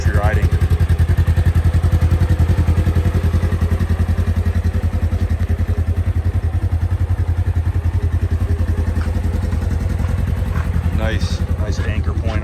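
A 2024 Polaris RZR 1000 side-by-side idles and runs with a steady, loud mid-range engine drone and mechanical clatter throughout, close by, with brief talk near the end.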